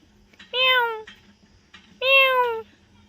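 A cat in a garden meows twice, two clear, fairly loud and close cries spaced about a second and a half apart against quiet background noise.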